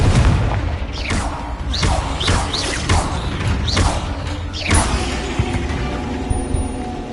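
Confringo explosive spell blasts in the video game Hogwarts Legacy: a loud run of booming impacts with sweeping whooshes, repeated in quick succession, then a rumbling tail.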